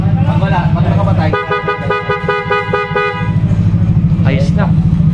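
A PIAA snail-type horn fitted to a Honda Click V3 motorcycle blares one steady, loud toot lasting about two seconds, with people talking and a motor running before and after it.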